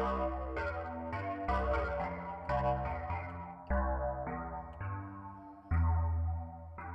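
A Parallax ReFill synthesizer plays a series of sustained chords, each lush and shimmering with a wide chorus effect, switching every second or so.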